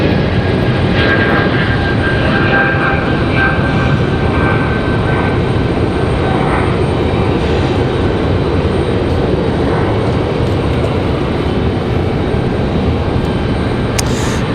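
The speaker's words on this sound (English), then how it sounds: "Nice quiet departure for the 300." A jet airliner departing Raleigh-Durham airport gives off a continuous, fairly loud engine roar that stays steady for the whole stretch, with faint whining tones drifting over it and no voices.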